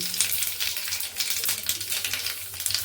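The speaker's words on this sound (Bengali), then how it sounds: "ওই কড়াইতে আমি ফোড়ন দেব শুকনো লঙ্কা" Dried red chillies and five-spice crackle and sizzle steadily in hot oil in a wok, a bright, dense hiss with quick pops throughout, close and fairly loud.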